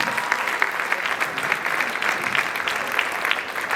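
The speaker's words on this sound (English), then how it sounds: "Please, a round of applause for that" An audience claps steadily and evenly for newly elected student leaders at a school announcement, a dense, sustained round of applause from a moderately close crowd.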